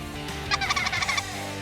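Wild turkey calling in a bayou, a rapid burst of about eight gobbling notes in a quick rhythm, mid-distance and fairly loud over a low, steady background hum.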